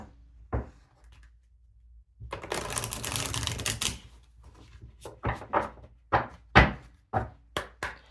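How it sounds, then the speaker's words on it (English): Tarot cards are shuffled in the hands: a burst of rapid riffling, then a series of sharp separate taps and snaps as the deck is squared and cut, close and fairly quiet. "let me give these a good shuffle for you"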